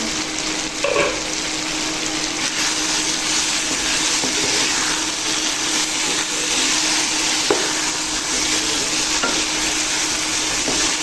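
Malabar spinach curry sizzles loudly in a pan as it is stirred, a dense continuous frying hiss with occasional scrape and clatter of the spoon, close up and without any talk.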